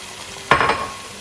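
Tomatoes drop into a pan of lightly golden onions and garlic, setting off a sudden loud burst of sizzling and frying hiss that slowly fades over about half a second, with no talking.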